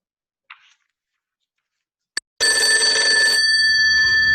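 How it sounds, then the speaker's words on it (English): A telephone bell rings in one loud, sustained burst after a couple of faint clicks in an otherwise silent room, as a sound effect for a readers theater performance. "The phone ringing."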